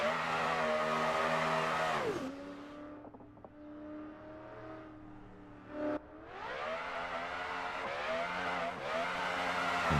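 A drift car competing in qualifying at a Formula Drift-style event in Pittsburgh, with its engine revving hard and pitch sweeping up and down through repeated throttle stabs. It is loud and close throughout, with a brief dip midway.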